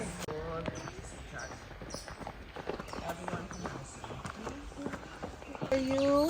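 Horse hooves clip-clop on a road near the Martha Brae River in Trelawny, Jamaica, a run of quick, moderately close hoof strikes mixed with outdoor bustle and voices in the background.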